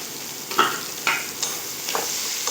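Chopped onion and garlic paste fry in hot oil under a soft, steady sizzle, with a few distinct scraping stirs of a spoon across the pan heard close up and no voices.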